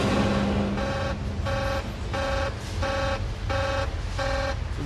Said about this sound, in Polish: Dla niego taki alarm to nic nowego.